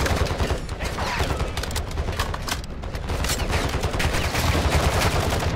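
A rifle in a video game fires in rapid, sustained bursts, loud and close up, and the shots keep coming through the whole stretch.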